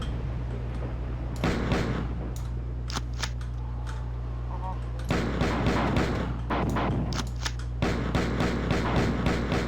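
Pistol gunfire in the video game Marathon 2: bursts of sharp cracking shots in quick clusters, separated by quieter gaps, with a game hum underneath.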